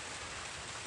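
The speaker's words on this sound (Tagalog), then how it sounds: "Malakas ang ulan." Heavy rain pours down in a dense, steady hiss with no let-up, on a farm beside a nipa hut at a pig pen.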